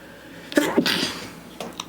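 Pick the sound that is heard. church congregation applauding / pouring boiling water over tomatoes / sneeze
sneeze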